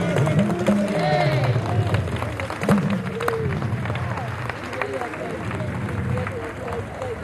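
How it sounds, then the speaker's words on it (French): An audience applauds an artist at a Benin independence anniversary ceremony: a steady wash of clapping and crowd noise throughout, with a voice speaking over it. "Merci d'offrir des applaudissements nourris à l'artiste."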